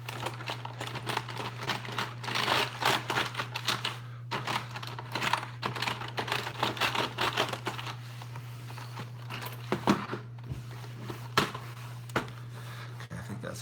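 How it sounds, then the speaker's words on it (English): A rag rubs and dabs across a plugged-in computer keyboard, producing dense clicking, key rattles and soft scrubbing over a steady low electrical hum. "It's a good time to wash the keyboard off, I guess."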